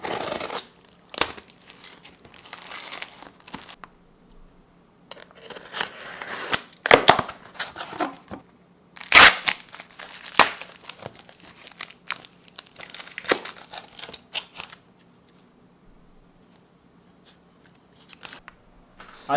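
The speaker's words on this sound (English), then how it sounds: "So let's just quickly unbox it." A package is unboxed by hand, with scattered crinkling, snipping and tearing of packaging, sharp close crackles in irregular bursts separated by quiet pauses.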